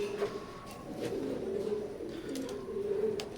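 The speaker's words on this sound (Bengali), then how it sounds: "আর কবুতর খুবই ভয় পাচ্ছে যেহেতু কবুতরগুলো ধরা হয় না।" Teddy golden pigeons with a heavy dewlap coo in low, soft repeated murmurs up close, a steady throaty burble running through the whole moment.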